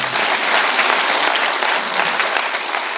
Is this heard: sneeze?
no